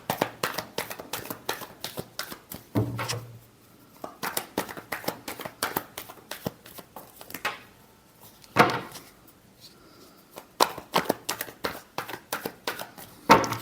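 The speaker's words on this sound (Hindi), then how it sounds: "Last shuffle." Tarot cards being shuffled, with bursts of crisp riffling and card slaps repeated in quick rhythm at close range, broken by short pauses and a few brief words.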